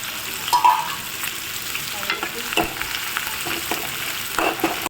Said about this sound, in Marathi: छानपैकी त्याच्यामध्ये बारीक चिरलेला कांदा परतवून घेऊया